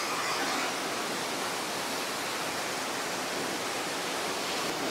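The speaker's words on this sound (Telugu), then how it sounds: "అదోండి ఆడ వాటర్ ఫాల్స్" Sadasiva Kona waterfall near Tirupati roars as a steady, dense broadband rush of falling water, constant and unbroken, with no voices.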